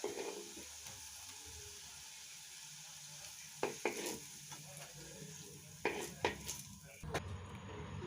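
Lauki koftas sizzle and fry in hot oil while being slowly stirred and turned, giving a steady soft crackle broken by a few sharper clinks and scrapes.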